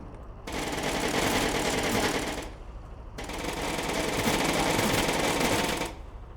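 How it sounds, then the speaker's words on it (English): Salvo of missiles launched all at once from a tank in a video game, heard as two long, loud, dense rattling bursts of rapid-fire launches separated by a brief pause. "Bunch of missiles that all shoot at one time, followed by an explosive shot."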